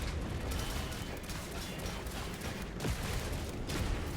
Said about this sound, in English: These machine guns are nuts.